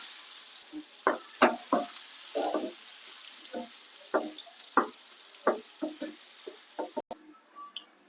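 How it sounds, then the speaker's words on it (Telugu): Crackling sizzle of finely chopped onion frying in tempering oil for curd chutney, with scattered sharp pops and spatters over a steady hiss, close and fairly quiet. "సన్నగా కట్ చేసుకున్న ఒక ఉల్లిపాయను కూడా వేసుకుంటున్నాము"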